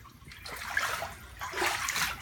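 Ankle-deep floodwater inside a house after Hurricane Matthew splashes and sloshes in two close bursts, like someone wading through it.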